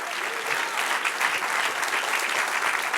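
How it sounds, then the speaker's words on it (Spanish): Congregation applause in a church service, a steady dense wash of many hands clapping throughout, fairly close and even in level, with no voice on top. "Dale un aplauso al Señor."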